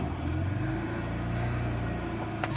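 A BMW engine turns over and settles into a steady low idle rumble close by, after sitting unstarted for a long time, with no talking.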